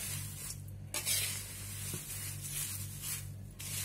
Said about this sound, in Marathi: तुम्ही आवाजावरून ओळखू शकता की आपला चिवडा हा अतिशय क्रिस्पी आणि क्रंची झालेला आहे.